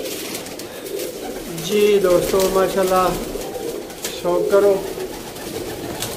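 Teddy, slate and golden pigeons coo on a rooftop in Sialkot, a few rolling coos rising and falling close by while someone talks over them.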